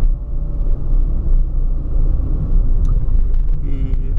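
A Ford Fiesta drives along with its engine running, giving a loud, steady low rumble from inside the car, with a few faint clicks and rattles.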